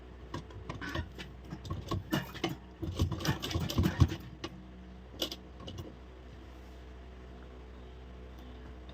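Sewing machine with a slight fault, running while stitching a coat-style blouse collar: a rapid clattering mechanical rattle for a few seconds, then fading to a low steady hum with a few faint clicks.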